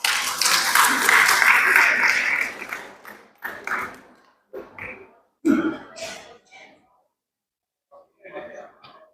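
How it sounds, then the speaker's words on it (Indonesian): A short burst of applause from a crowd at a graduation ceremony at the start, fading into scattered sounds and a few murmured voices. "Sekali lagi beri tepuk tangan yang meriah"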